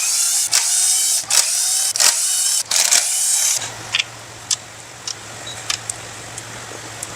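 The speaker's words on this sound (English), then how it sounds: "Now let's start removing all the bolts that hold the valve cover in place." Hand ratchet clicking rapidly while loosening engine valve cover bolts, a close, bright steady ticking broken by brief pauses, then fading to sparse quiet clicks over a low hum.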